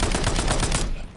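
Rapid automatic gunfire in the Call of Duty Warzone video game, a loud close burst of evenly spaced shots lasting under a second before cutting off.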